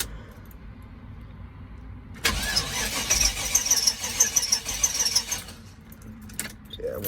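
A 1995 GMC box van with a 5.7 engine and a bad fuel pump cranks but will not start, with a few seconds of steady starter whir after a quiet lead-in and rattling near the end.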